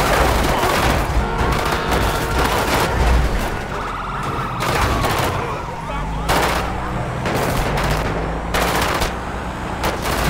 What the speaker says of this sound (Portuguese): os caras estão atirando na polícia sem dó, galera. Estão fuzilando mesmo.